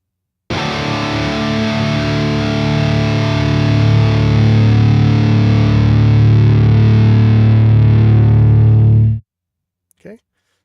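Heavily distorted electric guitar processed through an aiXdsp Multi Band Gate, one loud sustained chord ringing for about nine seconds, then cut off abruptly by the gate and followed by a brief faint noise.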